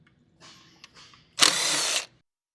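A ratchet loosens the 8 mm valve cover bolts on a 2019 Dodge 6.7L Cummins pickup, with a few light clicks followed by a short, loud burst of rapid ratcheting, close up and with no talking.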